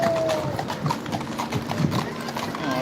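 Horses walking with steady hoof clip-clops, moderately close, with people chatting over them throughout.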